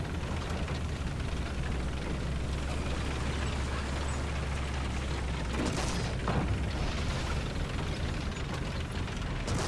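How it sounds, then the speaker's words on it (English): A StuG tank in War Thunder rolls along with a steady low engine drone and grinding mechanical rumble, joined by a couple of brief bursts or thuds near the middle. "So here we are, we're driving around in our Stug."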